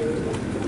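Racing pigeons coo in a loft, a low throaty murmur close by under steady background noise, with faint talk nearby.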